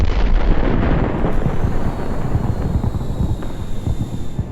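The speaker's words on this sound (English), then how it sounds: "The stalled APCs explode" Stalled armoured personnel carriers exploding during a Russian assault, a loud, continuous deep rumbling roar with dense low booming, sustained throughout.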